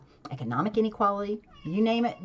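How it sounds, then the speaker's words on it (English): A pet cat meows a few times close by in a home, its cries overlapping a man's speech. "I got a cat meowing."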